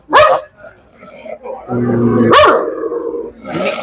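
A dog barks sharply up close, then growls low and steady before barking again, loud and near, with people talking around it.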